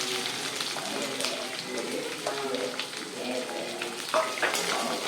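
Four onions and two green chillies sauté in a pan for curry leaf upma, giving a soft, steady sizzle with light stirring, while a voice talks over it.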